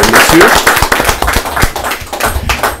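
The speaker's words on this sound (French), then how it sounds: "je vais demander à ce beau public d'applaudir quand même très fort ces" A live show audience claps loudly for the performers, with dense, close clapping at the start that thins into scattered, uneven claps. Other crowd noise sits faintly underneath.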